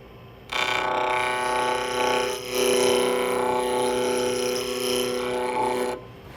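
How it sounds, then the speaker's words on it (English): A roughing gouge shears a wooden blank into a cylinder on a spinning lathe, a steady, close, tonal whirring rasp with a brief dip mid-cut, continuous for about five seconds before stopping. "I'll begin by using the roughing gouge and just turning the blank into a cylinder"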